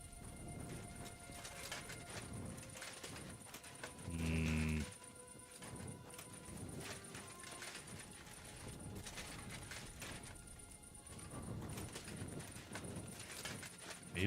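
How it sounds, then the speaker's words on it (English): Horses walking in the medieval video game Kingdom Come Deliverance II: faint, soft hoof clops drifting at a distance beneath a quiet ambient bed, with a brief brighter tone partway through. "I hear horses, and I think they're on the other side."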